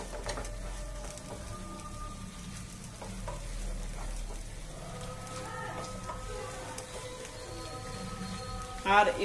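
Chicken pieces and potatoes sautéing with meat masala in a pan for chicken kasa, a steady soft sizzle and occasional stirring scrapes running throughout, with some background noise and a brief louder clatter near the end.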